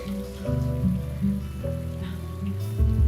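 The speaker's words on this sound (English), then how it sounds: "It's the rain." Rain falls during a romantic movie scene, a soft steady patter beneath sustained music tones, fairly quiet and continuous.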